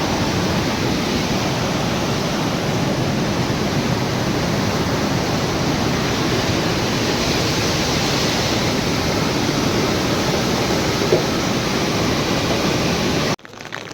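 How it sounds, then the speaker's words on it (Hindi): Loud rushing mountain water on a rainy pilgrimage trail to Manimahesh, a dense, unbroken roar that fills the scene at constant level for about thirteen seconds before cutting off abruptly. "पानी की आवाज़ तो बहुत तेज है।"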